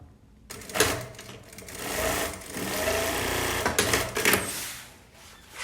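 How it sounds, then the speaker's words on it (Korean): A sewing machine stitching a garment seam, running in a steady mechanical whir close by, with the motor speeding up and easing off in a couple of bursts before slowing to a stop. "대략 한 4cm 정도 올려서 박아볼게요"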